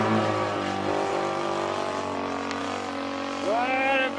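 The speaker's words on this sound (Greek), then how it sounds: "Δεν δουλεύει καλά ο κινητήρας" 50cc gas engine on a Hobbistar MK III RC model helicopter running rough, a loud steady buzzing drone throughout, with a brief rising whine near the end.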